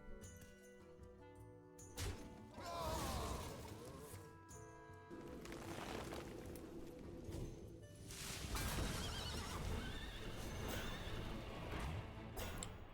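A horse neighs amid clattering hooves and crashing effects over continuous background music, fairly quiet overall.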